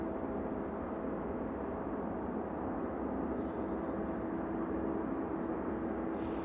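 An aircraft landing at East Midlands Airport rumbles steadily and broadly at a distance, a continuous hum with no voices.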